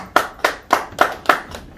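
Five sharp claps in a steady rhythm at a political party meeting, close and fairly loud, then a sixth softer one, with no voices.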